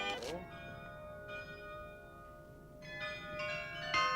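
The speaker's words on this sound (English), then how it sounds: "The softly sounding chimes from Maria Loreto's Pilgrim Church, near Loreto Place." Chimes from the Loreto pilgrim church near Loreto Place in Prague ring out as several separate bell strikes, each one clear and decaying slowly, heard at moderate distance over quiet ambient noise.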